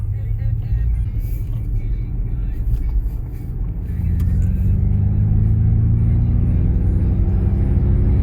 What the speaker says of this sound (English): It's a fake V8 for sure.